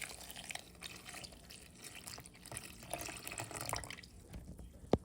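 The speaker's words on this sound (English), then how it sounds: "We're gonna add a total of 4 cups of milk" Cold whole milk pours into a mixing bowl for a lemon pudding cake, a quiet, continuous liquid trickle with small splashes and a brief sharp clink near the end.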